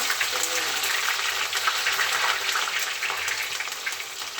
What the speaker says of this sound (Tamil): அது கூட பூண்டு, எல்லாத்தையும் நல்லா வதக்கிக்கலாம்.